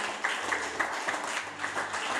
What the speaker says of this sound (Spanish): Fuerte aplauso para don Inocente.